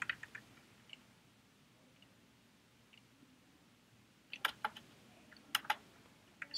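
Computer keyboard typed on by a user entering a search term, giving faint scattered clicks that then gather into a brief burst of quicker keystrokes, with no speech.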